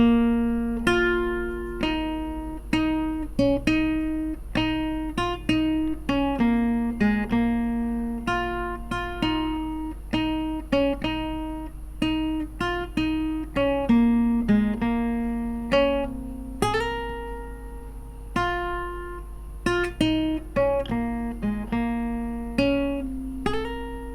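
Guitar with a capo plays the introduction melody of a song, a steady run of plucked single notes repeating in a rhythmic pattern, clear and close with no talk.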